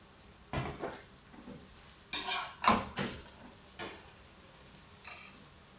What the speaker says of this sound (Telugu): రైస్ మిక్స్ చేసుకున్నాం బాగా.